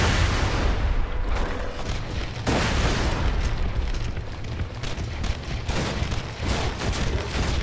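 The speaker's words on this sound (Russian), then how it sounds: "Бросаю гранату." Grenade blast in Borderlands 2: loud booming detonations and rumbling gunfire in dense, continuous bursts, with sharp cracks layered over a heavy low roar.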